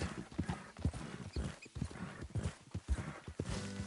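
Horse hooves clip-clop steadily through a video game on PS4, a regular rhythm of close, fairly loud hoofbeats with a brief whinny among them.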